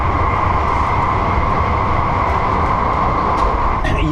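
Inside a Japanese Shinkansen bullet train travelling at around 320 km/h, a steady, dense rumble and rushing hum fills the cabin. It stays constant and even throughout, with only a few faint clicks and no voices.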